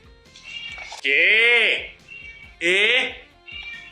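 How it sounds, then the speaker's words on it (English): A cat gives two loud, drawn-out meows with rising and falling pitch, close by, separated by softer sounds and a short squeak. "That cat."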